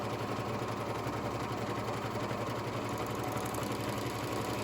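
Sewing machine finishing the shoulder seam allowance of a Vogue 1933 shirt dress, running steadily with a fast, even mechanical hum and rapid stitching rhythm throughout, close and moderately quiet.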